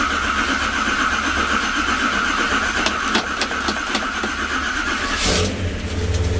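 A 1971 Chevy truck engine runs loud and steady close by, with a few sharp revs near the middle and a brief louder burst toward the end before settling.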